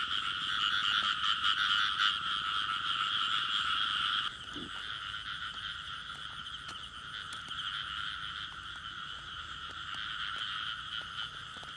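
A chorus of big female frogs of 700–800 grams croaks without pause, a steady throbbing drone that is louder at first and then drops a little after a few seconds, carrying on evenly with no talking.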